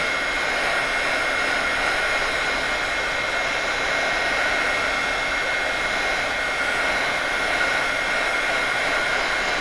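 A heat tool blows steadily at close range while warming stamping foam, a constant loud whooshing roar with a faint whine and no break.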